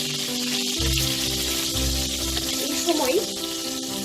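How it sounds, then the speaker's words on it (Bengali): Vegetables for a Bengali pui shak chorchori with fish head sizzle and fry in a pan while being stirred, a steady loud hiss with scraping stir noises and a short spoken phrase. "ঢাকাটা খুলে তরকারিগুলোকে নেড়ে দেবো।"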